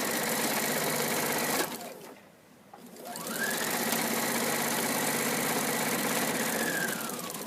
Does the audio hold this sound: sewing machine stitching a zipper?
yes